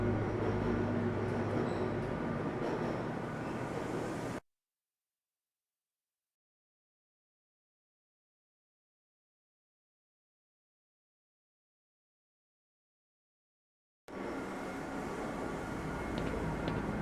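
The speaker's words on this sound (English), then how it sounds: "This train is inbound" Inbound train in Black Mesa, the video game, rumbling steadily at moderate loudness for about four seconds, then complete silence for ten seconds before the same rail rumble returns.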